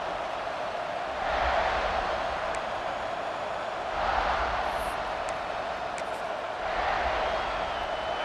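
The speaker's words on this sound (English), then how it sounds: "This crowd ready to make its presence known." Stadium crowd noise from the EA Sports College Football 26 video game, a broad steady roar that swells in waves, with faint announcer-style talk mixed in.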